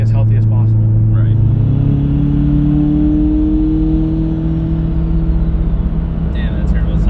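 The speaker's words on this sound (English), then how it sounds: "that turbo sounds nice." A turbocharged 900 HP Mitsubishi Evo X engine running at around 44 psi boost holds a loud, steady droning rev with a rising tone. Turbo whine sits over the engine, and voices are heard briefly at the start and end.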